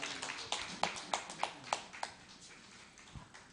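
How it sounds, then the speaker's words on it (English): Faint applause at an online webinar: about eight sparse, evenly spaced hand claps that trail off into quiet. "Mr. Lawal Mohammed, with a very warm round of applause."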